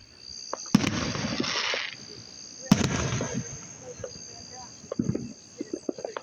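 Fireworks burst at an outdoor firework show, two loud booms followed by crackling fall-off, then a run of smaller pops and crackles, with insects chirping steadily in the background.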